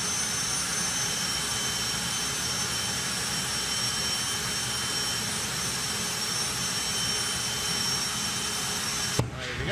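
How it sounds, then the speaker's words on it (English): A jet dragster at an FIA drag racing event roars through an afterburner show, a loud, steady, broadband jet blast that holds for about nine seconds before a brief pop near the end, with no voices. "There we go then, afterburner show between Fire Force and Firestorm."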